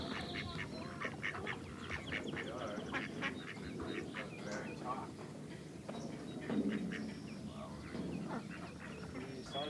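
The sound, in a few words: ducks quacking at a bird sanctuary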